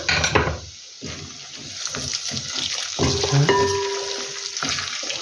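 Meat frying in a pan, with a steady crackling sizzle that runs throughout, close and fairly loud, with a few louder bursts and brief clatters from the pan.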